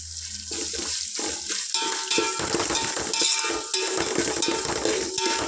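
Rice, salt and mutton for mutton biryani fry in a pan while being stirred, producing a continuous loud sizzle with repeated clattering scrapes and knocks of the spoon against the vessel; no speech.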